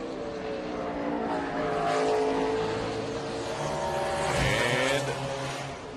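A NASCAR race car on a 2018 qualifying lap at Watkins Glen howls at high revs, its engine note climbing, then briefly dipping and rising again as it changes gear, loud and close throughout.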